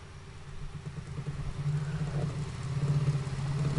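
A small DC motor coupled to a generator, driven by PWM control, starts up and runs with a steady low hum that gradually rises in level, close and alone.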